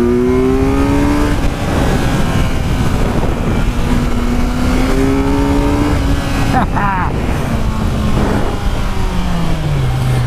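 Kawasaki Z900 motorcycle, 2017 model, ridden on a test track, its engine droning steadily with rising and falling pitch as it accelerates and shifts, loud and close throughout, with someone talking over it.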